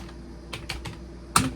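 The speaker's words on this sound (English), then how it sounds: "Listen to this keyboard, though. It really does sound nice." Keys clack on the keyboard of a Vendex Headstart Turbo 888 XT computer, several soft separate strokes followed by one sharper, louder press, close up in a quiet room.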